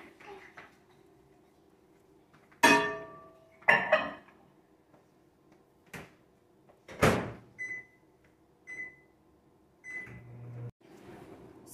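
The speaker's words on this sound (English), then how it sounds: "Now we can put it in the microwave." A microwave oven is handled while a playdough mixture goes in. Several sharp clunks and bangs of the door and bowl come close, then three short beeps and a low hum, with quiet voices between.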